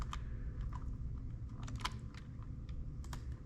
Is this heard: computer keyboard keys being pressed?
yes